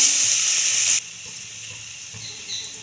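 Cut raw mango pieces hit hot oil with browned garlic, a loud bright sizzle at first that quickly settles into a quieter, steady frying hiss.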